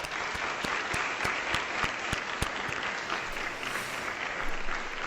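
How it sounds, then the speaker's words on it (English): Audience applause at a Vaganova ballet graduation exam rolls on in an even, dense patter, with a few sharper, louder claps standing out close by through the first half. "Guys, round of applause."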